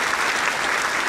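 A podcast audience claps steadily, a dense burst of applause filling the moment without speech.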